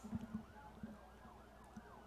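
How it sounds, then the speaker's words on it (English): An ambulance siren wails in a repeating rise-and-fall pattern, faint and distant, heard from a high school baseball playoff game about half a mile from a hospital, with occasional dull thumps nearby. "Yeah, that's not fire department not fire sirens, so that's ambulance."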